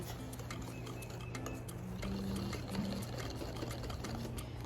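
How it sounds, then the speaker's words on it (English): Dessert batter whisked by hand in a bowl until smooth, a quiet, steady run of rapid light clicks and scrapes over a low background hum. "we're going to get our whisk here, and we're going to get to whisking"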